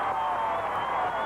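A packed stadium crowd roars at a Wales Conference Final playoff hockey game between the Islanders and Canadiens, a steady, dense wall of cheering with no breaks.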